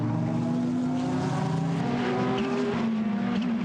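Porsche and Ferrari GT race cars battle for position in a Blancpain GT Sports Club race in Hungary, their engines roaring loud and close with rising and falling pitch as they accelerate through the gears, continuous throughout.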